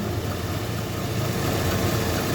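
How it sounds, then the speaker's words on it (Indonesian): A Toyota Corona Absolute's engine idles steadily after starting, a continuous low rumble with even vibration throughout and no voices. "nyalakan mesin"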